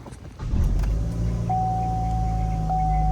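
A 2015 Chevy Cruze engine cranks and catches, then settles into a steady, close idle hum with a faint high whine running over it.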